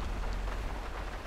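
Steady rain in the video game GTA 5, a dense even hiss of drops falling on surfaces with a low rumble underneath, continuous and fairly loud with no talk.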